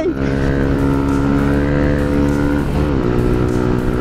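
A motorcycle exhaust heard while riding, a loud, steady low engine drone with gear-shift changes in pitch, continuous throughout.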